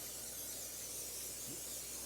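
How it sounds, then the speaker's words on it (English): Cooking spray hisses steadily from a can into an 8x8 glass baking pan, a soft continuous aerosol spray filling the short moment at close range with no talking. "Spray it. Don't want nothing sticking in there."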